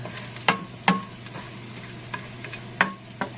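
Garlic sizzles in a frying pan, with a soft steady fry underneath and a few sharp clinks of a utensil stirring against the pan at irregular moments.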